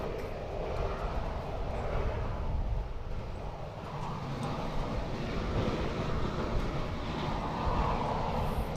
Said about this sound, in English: those 757 engines are superb